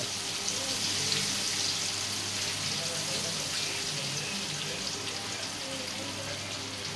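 Steady, dense sizzling and crackling of hot oil bubbling in a pan for frying soya chilli, continuous and close, with faint voices in the background.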